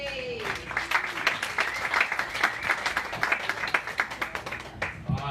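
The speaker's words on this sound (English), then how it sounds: "Big round of applause for Will Ayers" Comedy club crowd applauding as the next comedian takes the stage, lively rhythmic clapping with distinct sharp claps and a brief cheer at the start, steady and close throughout.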